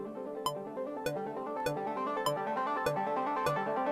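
A short motif played as repeating 6-tuplets on an Elektron Analog 4 hardware synth, steady rhythmic pulses with sharp clicky attacks over a sustained tonal bed, heard alone and moderately quiet.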